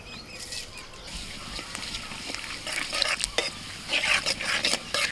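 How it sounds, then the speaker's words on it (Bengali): Bay leaf and whole cumin sizzle in hot oil in a kadai, a soft continuous crackle with a few brief stirring and clinking sounds, fairly quiet and close. "কড়াইতে আবারও কিছুটা আমি তেল দিয়ে দিয়েছি আর ফোড়নে দিচ্ছি তেজপাতা আর গোটা জিরে"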